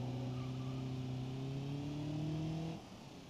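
A car engine in BeamNG Drive hums at a steady, moderate level, its tone climbing gradually as it accelerates before easing off and dropping away near the end.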